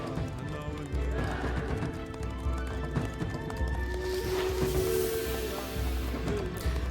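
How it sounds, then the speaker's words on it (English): Horses run around a colony in the video game Against the Storm, a steady clip-clop of hooves with an occasional whinny over dense game music and ambience, continuous and moderately loud throughout. "the horses are out of the barn, they're running around getting shot"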